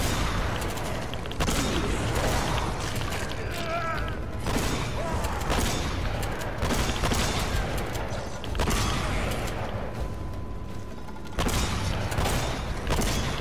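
Dense, chaotic Uncharted gunfire with rapid shots and booming blasts running throughout, loud and busy with mechanical clatter layered underneath.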